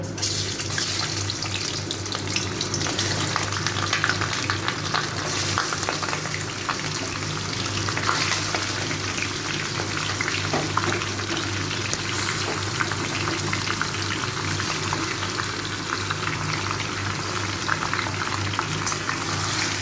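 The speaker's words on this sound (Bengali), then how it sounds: "এই তেলটার মধ্যে চিকেনগুলোকে ভেজে নেব।" Pieces of chicken fry in hot oil in a pan, giving a dense, continuous hiss and bubbling that stays loud and steady throughout with no talking.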